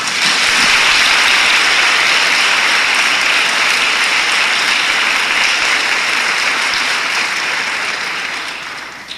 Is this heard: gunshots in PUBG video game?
no